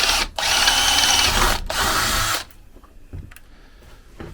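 A power tool, likely a drill or impact driver, fastening new wind turbine blades outdoors, whirring loudly in two bursts, then stopping, leaving faint wind and handling noise.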